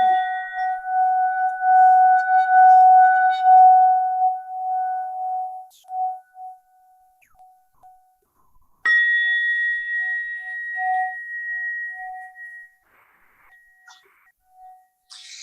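A crystal tone instrument bearing a flower of life design rings out in a sound healing session, with one long pure sustained tone that fades and then a second bright struck tone that decays slowly, close and clear with no voices.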